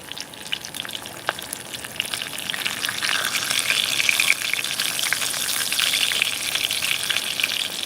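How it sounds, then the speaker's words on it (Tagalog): Dried fish (daing) frying in a pan on a house rooftop, a steady crackling sizzle with bursts of spatter running throughout, fairly close and with no talking. "Magluto ng daing sa taas ng bubong."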